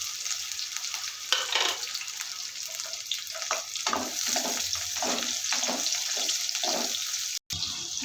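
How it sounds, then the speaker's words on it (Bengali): Chopped chilli and onion dropped into hot oil in a pan for a pui shak fish curry, sizzling loudly and steadily, with short scraping stirs pulsing through the hiss, close and continuous. "ঝাল পেঁয়াজ দিয়ে দেবো।"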